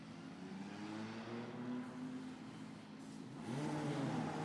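Formula Regional Middle East Championship race cars drive out onto the circuit for qualifying, giving a steady mid-pitched engine whir heard at a moderate distance, with one car revving more loudly near the end.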